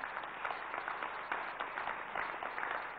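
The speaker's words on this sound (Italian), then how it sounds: "vorrei che rifacciato l'applauso di Luca Filipponi" A dense wash of clapping from an audience applauding Luca Filipponi, faint and heard from a distance, holding steady throughout.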